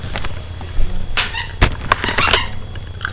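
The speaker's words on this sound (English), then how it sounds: "You might hear a lot of squeaking now." Repeated sharp squeaks from a rubber dog toy being chewed, coming in irregular clusters close to the microphone over a bit of low background noise.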